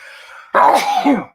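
One sudden, loud sneeze bursts out close to the microphone after a quiet moment, a sharp explosive breath that trails off.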